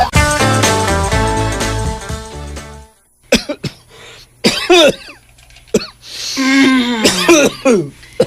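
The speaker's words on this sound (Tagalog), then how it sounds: "Giubo-ubo naman lagi ka" A man coughs repeatedly in several harsh, throaty bursts with gaps between them, close up, following a passage of music.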